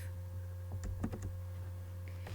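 Keys clicking on a computer keyboard while code is typed in MATLAB: a short burst of several close, light taps near the middle, over a steady background hum.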